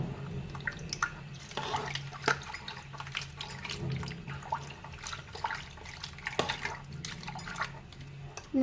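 Water splashes and trickles in a bowl as butter is washed while making ghee, with uneven pouring and sloshing sounds close by.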